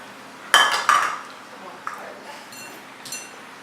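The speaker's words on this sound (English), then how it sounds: "In a mixing bowl, you have to cream the butter and the sugar" Butter and sugar being creamed in a mixing bowl produce two sharp, loud clinks of a utensil against the bowl, followed by softer scraping knocks and a few lighter taps.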